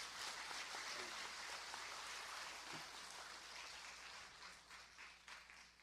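Steady audience applause for a research team at a formal gathering, a broad, even wash of many hands clapping, heard somewhat distant and fairly quiet, fading slightly toward the end.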